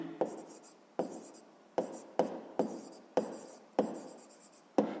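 Pen writing by hand on paper, close and quiet, in short scratchy strokes separated by brief pauses, about eight bursts in a loose, irregular rhythm.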